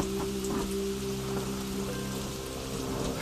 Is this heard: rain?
yes